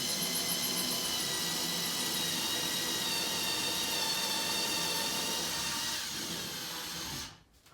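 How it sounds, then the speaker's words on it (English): Power drill boring a pilot hole into a wall stud while installing a hanging storage basket, a steady continuous whine held for about seven seconds before abruptly cutting off, close and loud. "we're just going to drill just a little bit more into that because we want to put a pilot hole into the stud"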